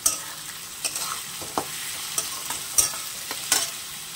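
Onions and chopped tomato fried in a pan, a soft steady sizzle broken by intermittent spatula scrapes and clinks, close and moderately loud with no voices.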